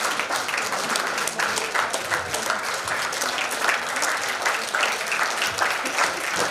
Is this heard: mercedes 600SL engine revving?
no